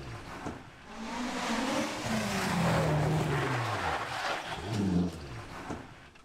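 A rear-wheel drive Toyota Starlet rally car powers along a historic rally stage, its engine rising and falling in pitch as it passes, revving through gears at moderate distance.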